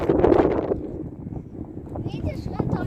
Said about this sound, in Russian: Ой, какой здесь ветер, здесь вообще сносит